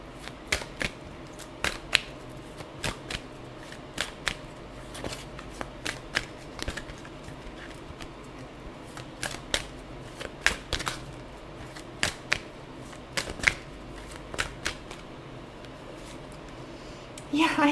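Tarot cards being shuffled by hand, a steady run of crisp riffles and soft flicks at close range, with a brief voice at the very end.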